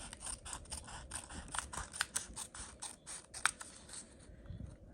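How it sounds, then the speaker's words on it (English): Scissors snip around a Dollar Tree playing card being made into an ATC card, a quick run of small, close, crisp cuts in a quiet room with no talking. "And then we're just going to cut"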